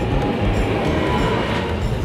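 Train ride in Italy through a mountain tunnel, a loud enclosed low rumble with steady rolling rattle and a faint higher hiss, continuous and close.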